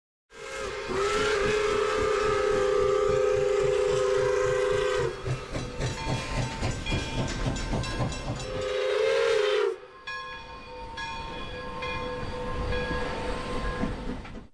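Pere Marquette 1225 steam locomotive sounds long, loud steam whistle blasts close by, with hissing steam and rhythmic chuffing between them, then a final long wail before quieter chugging carries on.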